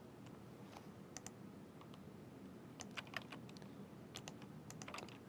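Rapid bursts of keystrokes on a computer keyboard as an exam number is entered into a computerized accounting practice test program, with clustered clicks and short pauses, close and fairly quiet with no talking.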